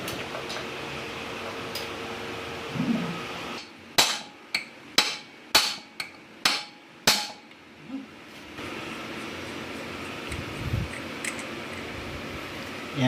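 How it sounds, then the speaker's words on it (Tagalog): Seven sharp metal hammer blows ring out close and loud in an uneven rhythm as a part with a bearing is knocked out of an engine near its connecting rod. Quieter workshop noise comes before and after the strikes. "saka siya pukpukin palabas nun"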